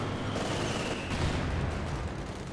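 Gunfire in a Company of Heroes battle, a dense barrage of rapid shots and rumbling blasts layered into a loud, continuous roar of combat that stays constant with no voices on top.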